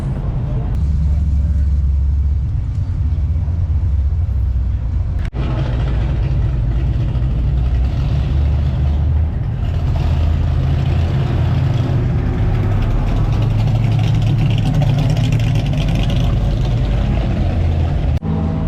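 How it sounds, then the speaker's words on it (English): Antique cars rolling past at an outdoor car show, with low, steady engine rumble and idling drone throughout and passing engine swells, while people talk nearby. "We sat and watched the cars go by."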